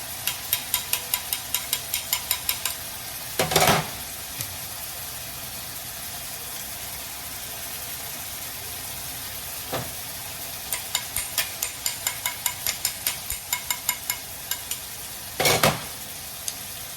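Meat browning in a pan for chilli beans sizzles steadily while being stirred, with rhythmic scraping strokes in bursts and a few louder clanks of the utensil against the pan.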